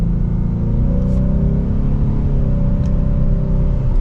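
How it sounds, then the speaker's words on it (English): A 2024 Ford Mustang EcoBoost pulling away, its engine droning loud and steady with rising and falling pitch as it accelerates, heard from inside the car with no talking. "we are setting off now in the new EcoBoost"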